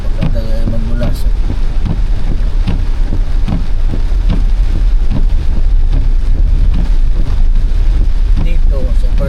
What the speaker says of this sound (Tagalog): inabutan kami ng malakas na bugso ng pag-ulan